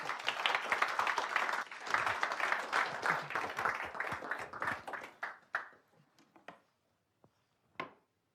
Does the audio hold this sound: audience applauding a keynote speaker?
yes